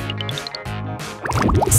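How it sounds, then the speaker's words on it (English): Water splashes and drips in short bursts as it is poured and sloshed with soap, with a rising run of droplet plinks, over a busy cartoon soundtrack. "Now I add some water! And a lot of soap!"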